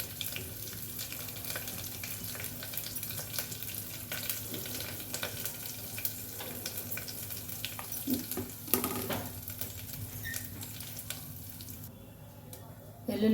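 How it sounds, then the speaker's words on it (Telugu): Tempering spices, including asafoetida, sizzle in hot oil for pongal, a continuous frying crackle close up with occasional stirring clinks and a brief louder spatter midway. "అందుకు ముందే తాలింపు వేస్తున్నాను"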